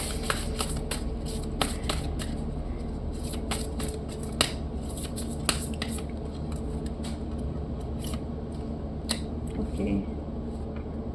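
Tarot cards are shuffled by hand close up, with quick papery riffles and sharp snaps scattered across the clip under a steady background, while a person talks.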